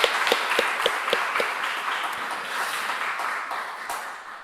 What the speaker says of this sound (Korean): 큰 박수로 한번 축하해 주시기 바랍니다